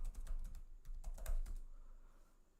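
Quiet, rapid keystrokes on a computer keyboard as a Linux terminal command is typed. The clicks come in a quick irregular burst and fade to stillness after about a second and a half.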